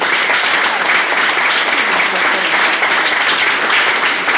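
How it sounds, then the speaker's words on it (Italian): Audience applause at an Italian theatre-related event, a dense, steady wash of many hands clapping loudly and continuously throughout, with no pauses. "se chi l'ha visto può anche regalargli un applauso"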